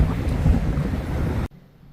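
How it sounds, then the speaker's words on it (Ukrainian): Strong gusty winter wind buffets the microphone with a loud low rumble, then cuts off abruptly to near quiet. "Дуже прохолодно і досі вітер."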